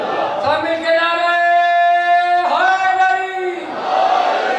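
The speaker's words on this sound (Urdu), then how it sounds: "سب مل کر نعرے کا جواب دیں" A large gathering at an imam bargah answers a religious slogan in unison, a loud sustained chorus of many voices holding long drawn-out notes, the chant shifting pitch midway before trailing off into crowd noise.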